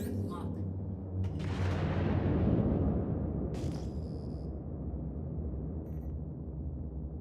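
Missile launches and explosions in the space game Star Citizen: a loud burst near the start swells into a broad rumbling blast that slowly decays, with a sharper crack midway, all over a steady low background drone.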